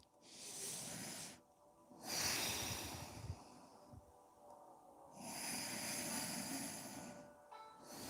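Slow, deep breathing during a yoga puppy pose: long hissing inhales and exhales alternate in a steady rhythm, close and fairly soft, with short quiet pauses between breaths.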